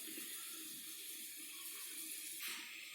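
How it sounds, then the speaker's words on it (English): Pot of water at a vigorous boil on a stovetop, a steady close bubbling hiss and rumble that continues evenly without pause. "The water was boiling up so much, so I needed to bring it on a low flame"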